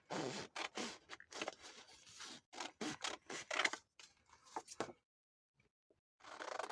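Scissors cutting paper strips to reinforce a junk journal edge, heard as quick close-up snipping in rapid bursts, followed by a short silent pause and then more cutting.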